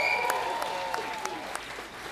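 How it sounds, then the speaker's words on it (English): Scattered, fairly faint audience clapping at a New Zealand radio awards ceremony, a few distinct claps spaced through the short stretch over a low room hum. "I preempted your clap."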